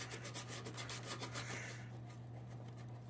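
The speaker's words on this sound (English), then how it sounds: "I'm gonna sand that one a little bit more" Sandpaper rubs back and forth against a plastic wiper linkage part from a Volvo 240 in a steady rasping rhythm for about two seconds, then stops, leaving a low electrical hum alone.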